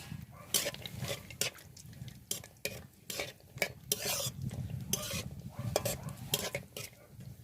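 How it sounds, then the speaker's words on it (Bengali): Cashews and raisins frying in ghee, a steady sizzle broken by repeated bright scraping and stirring strokes of a utensil against the pan, close and fairly loud, with no voices. "একশো গ্রাম কাজু আর পঞ্চাশ গ্রাম কিশমিশ আমি ঘিয়ের মধ্যে দিয়ে ভেজে নেব"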